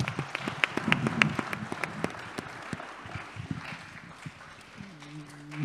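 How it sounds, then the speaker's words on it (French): An audience at a talk on fighting poverty claps in scattered, uneven bursts that thin out over several seconds before a hum rises at the end. "Merci beaucoup pour vos applaudissements"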